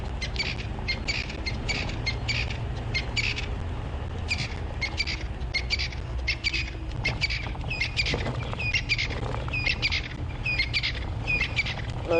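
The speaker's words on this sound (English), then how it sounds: "Those are the crested francolin we can hear calling." Crested francolins call in the African bush at sunrise, with repeated scratchy chirping bursts rising over a steady low rumble of wind or vehicle noise for the whole stretch.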